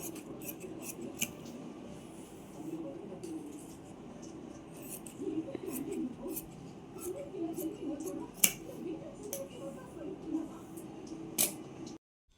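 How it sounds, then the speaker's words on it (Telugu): Scissors cutting lining fabric for an umbrella frock, a series of crisp, close snips at an irregular rhythm over quiet room noise, without speech. "ఈ లైనింగ్ అనేది ఇలా పెట్టుకొని ఇప్పుడు కట్ చేసుకుంటే సరిపోతుంది ఒక హాఫ్ ఇంచ్ ఎక్స్ట్రా ఉంచుకొని కట్ చేస్తున్నాను"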